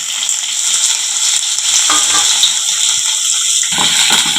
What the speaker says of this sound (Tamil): வெங்காயம் வந்து நல்லா வதங்கி ப்ரௌனாக வர வரைக்கும் நம்ம வதக்கி விட்டுக்கலாம்.